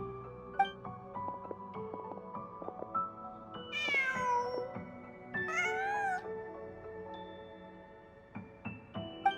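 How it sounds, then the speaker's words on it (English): A cat meows twice in Genshin Impact, two drawn-out rising cries heard close against soft layered game music. "Just a cat."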